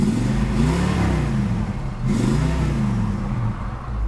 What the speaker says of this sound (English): Car is running.